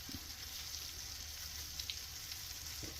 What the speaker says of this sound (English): you want a nice sizzle. That's just about right.